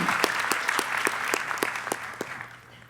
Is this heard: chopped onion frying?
no